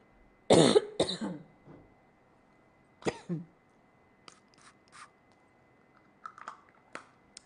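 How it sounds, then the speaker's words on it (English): Two sharp, close coughs in quick succession from a man with a cough lasting weeks, followed by another pair of smaller coughs and a few faint clicks in an otherwise quiet room. "Man, I've been coughing for weeks now."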